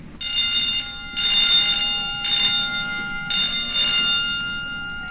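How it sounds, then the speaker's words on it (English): Four long electric school bells ring in a 1964 high school, each a loud, sustained metallic clang lasting about a second, separated by short pauses, with no voices. "just sit still until the 4 bells ring"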